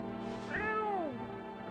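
A cat meows once in a video game, a single drawn-out rising and falling call heard up close over a steady game background hum.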